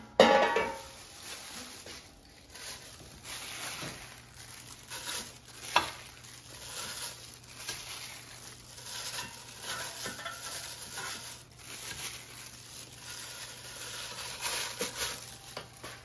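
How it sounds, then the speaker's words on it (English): Pork rib tips are placed into an air fryer basket with soft scattered clatters and knocks, a sharp bump early and another near the middle, against a quiet kitchen hum. "And now let's put them in the air fryer."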